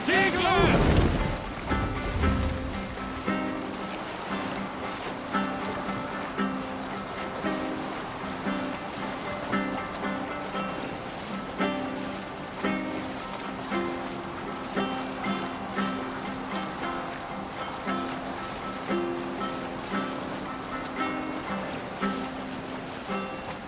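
A Viking longship under sail on ocean waves in Assassin's Creed Valhalla, with a steady wash of water and wind that rises and falls in gentle surges, a loud burst at the start and a layered tonal backdrop underneath.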